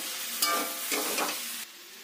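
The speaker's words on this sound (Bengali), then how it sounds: "দিয়ে ভালোভাবে নাড়াচাড়া করতে হবে যতক্ষণ না ভাজা ভাজা হয়" Chopped tomato and chili stir-frying in a pan with a steady sizzle and a few scraping stirs, close and moderately loud, dropping quieter near the end.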